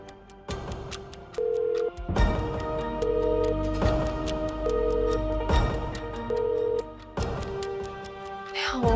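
An unanswered phone call in a TV drama scene: repeated ringback tones pulse in evenly spaced bursts over a busy, layered background score, with no one picking up.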